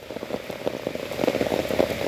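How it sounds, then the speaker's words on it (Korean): Rain falling during a barefoot walk by Anyang Stream under an umbrella: dense, close pattering of drops with brief splashy bursts, steady throughout and without talk. "빗소리도 너무 좋죠."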